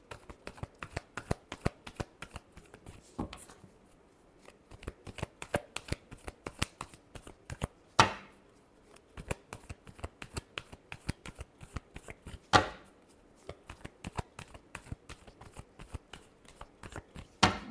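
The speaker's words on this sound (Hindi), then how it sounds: "Last shuffle." Tarot cards are shuffled by hand at close range in repeated quick riffling bursts, with sharp snaps and clicks between passes, and a couple of louder card slaps stand out.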